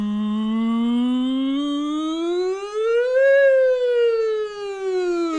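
A voice wails a siren imitation, a single continuous tone that rises, peaks, then slowly falls, loud and close.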